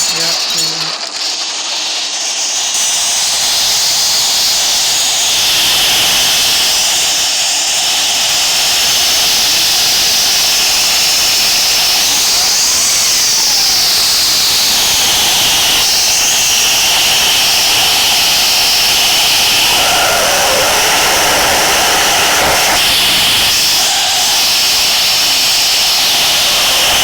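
An aircraft's jet engines roar loudly on takeoff, a steady, dense rushing and whining that fills the whole clip and stays close and powerful throughout, with a brief muffled thump near the start.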